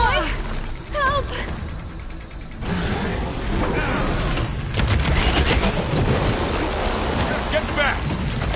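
Gunfire and explosions in the Horizon video game, with dense rattling bursts and booms over a constant rumbling bed, busiest in the second half, while voices shout over the action.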